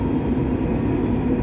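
Steady, continuous rumble and rolling hum inside a moving Dubai metro train, close and even throughout with no talking.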